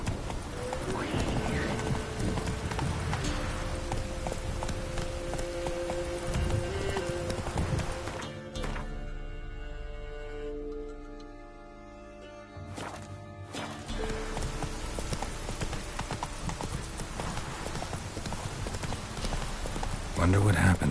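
Roach the horse in The Witcher 3 video game clip-clops along at a gallop, steady hoofbeats running nearly throughout with a brief quieter stretch midway, under game music and a voice.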